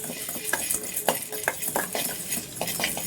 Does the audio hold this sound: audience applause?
no